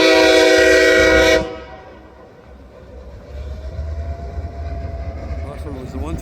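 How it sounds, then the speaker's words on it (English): Two SW900 switcher locomotives, numbers 904 and 907, pass by and give a loud, steady multi-tone horn blast that cuts off sharply, leaving a low, continuous engine and rail rumble. "Here comes the choo-choo train."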